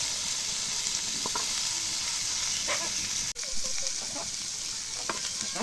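Fish fillets sizzle and hiss steadily in hot oil in a frying pan, a close, continuous crackling fry with occasional stirring clinks and no talking.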